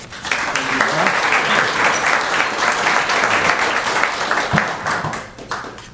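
A club audience applauds to welcome a speaker at a luncheon-style gathering, with brisk, steady clapping from many hands, a few louder claps standing out, and murmured voices underneath as it winds down.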